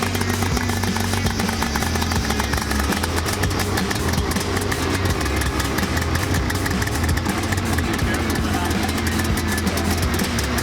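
A turbocharged engine fitted with a turbo-back exhaust idles loudly and steadily up close, with a continuous throbbing rumble that holds through the whole stretch.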